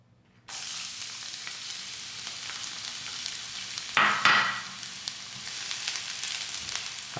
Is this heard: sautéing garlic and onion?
yes